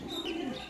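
Soft, low cooing from Hans Raj pigeons rolls on steadily throughout, with a faint chirp above it and a brief click at the very end.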